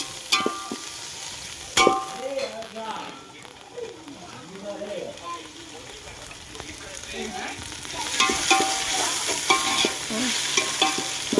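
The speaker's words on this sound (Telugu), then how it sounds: "మొత్తం బాగా ఫ్రై అయినాక బియ్యం అయితే వేసేసుకున్నాం" Rice, coriander and mint fry in a pot for pulao while being stirred, with scraping and clanking of a ladle over a sizzle that grows louder toward the end, and a voice speaking intermittently.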